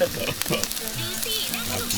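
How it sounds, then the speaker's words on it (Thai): Pork sizzles loudly as it grills in a large metal basin used as a pan, a constant crackling hiss close by, with voices talking faintly underneath. "หมูกระมังครับไม่ใช่หมูกระทะ"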